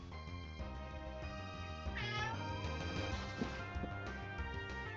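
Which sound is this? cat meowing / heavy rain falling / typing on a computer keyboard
cat meowing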